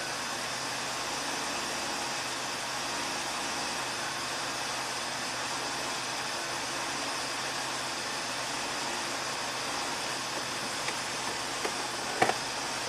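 A 1985 Oldsmobile engine idles steadily just after startup, a constant broadband rumble and hiss with a few faint clicks near the end and no talking.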